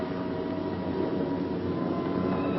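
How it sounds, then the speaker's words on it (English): B-17 Flying Fortress bomber engines drone steadily as the planes approach a wartime airfield, a continuous low, even rumble with no voices. "Every ear strains for the first sound of the engines."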